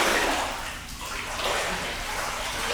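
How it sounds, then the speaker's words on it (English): Foam pool noodle pushed and pulled under water during an aquafit exercise, giving continuous swishing and sloshing that surges and eases with each stroke, close and fairly loud. "push and pull the noodle under the water"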